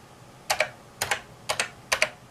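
Keystrokes on a computer keyboard as a short text command is entered for a 6502 badge: four evenly spaced paired clicks, close and crisp, with nothing else in the background.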